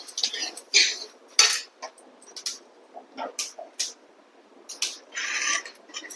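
Roasted flax seeds scraped with a metal spoon out of a pan into another vessel: a series of short, near scraping and clinking strokes in irregular rhythm, with quiet pauses between them.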